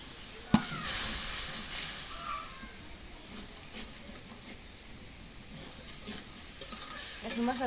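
Food is stir-fried in a pan with a continuous moderate sizzle and occasional stirring scrapes, opening with one sharp knock, and no clear speech over it.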